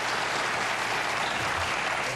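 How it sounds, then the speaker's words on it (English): A studio audience on a 1982 late-night talk show applauds, a dense steady burst of clapping throughout. "Just applaud if you do."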